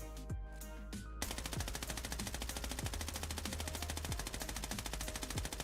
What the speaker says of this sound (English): So this is me trying the M4, but actually controlling the recoil.